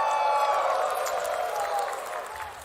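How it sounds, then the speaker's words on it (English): Crowd at a TWT finals fighting-game tournament cheering and applauding, a dense roar of clapping and shouts that holds steady and then tails off slightly, heard as if through a broadcast. "Crowd, are you still with me out there? Make some noise one"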